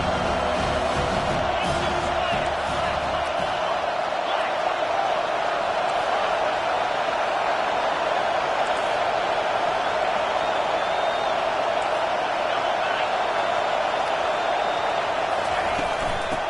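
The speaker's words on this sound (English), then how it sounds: "Decibels rising as the crowd gets behind this defense on third down" A stadium crowd in the football video game NCAA 25 roars steadily and loudly on a third down, a dense continuous wash of cheering that holds level throughout with faint whoops on top.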